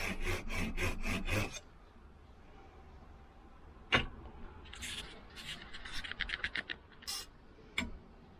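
Hand carving tools rasp and scrape at wood while roughing out a wooden fork, with a rapid series of close, loud strokes at the start, then scattered lighter scrapes and a few sharp clicks.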